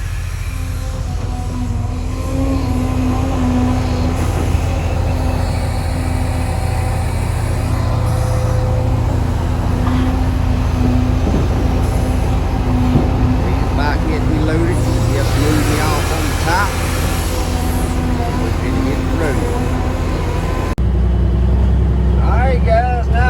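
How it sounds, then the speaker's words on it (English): Diesel engine of a 1998 Kenworth truck hauling dirt, heard from inside the cab as a loud, steady low rumble with a constant drone throughout and a shift in tone near the end. "Y'all riding in a 1998 model KW"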